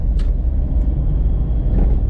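A Volkswagen up! TSI accelerates, its engine a loud, steady low rumble heard close from inside the car.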